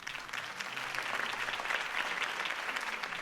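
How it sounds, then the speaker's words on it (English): A crowd applauds steadily for a few seconds, a dense wash of clapping at moderate level with no speech over it, at a political campaign event in the Batman Telltale Series video game. "If only Mr. Wayne, my campaign's largest backer, could have heard that applause"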